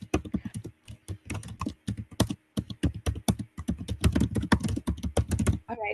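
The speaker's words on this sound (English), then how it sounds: "someone is typing very loudly" Loud, close typing on a computer keyboard during an online seminar, with rapid irregular bursts of key clacks separated by brief pauses.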